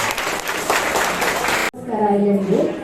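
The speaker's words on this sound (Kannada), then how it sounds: "ಜೋರಾದ ಚಪ್ಪಾಳೆ ಆ ಮಾತು" Loud audience applause at a children's arts camp performance, dense clapping for about a second and a half that cuts off abruptly, followed by a voice speaking.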